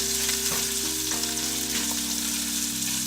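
Bacon and sausage sizzle steadily on a grill, a close, continuous frying crackle with a low steady hum underneath and no talking.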